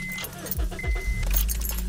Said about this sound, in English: I'm about to start this car to make sure